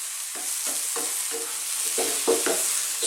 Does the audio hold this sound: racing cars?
no